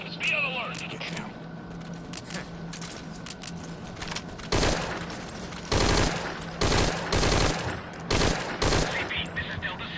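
Bursts of rapid gunfire in the stealth-action video game Metal Gear Solid V, several loud volleys spaced across the moment over a low ambient hum, with radio-style voices talking in the background.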